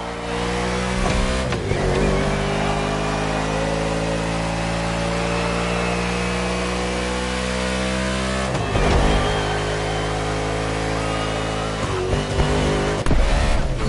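A race car engine in a NASCAR video game holds a loud, steady high drone, with brief dips and surges at a few points as the car lifts and accelerates again, with no talking.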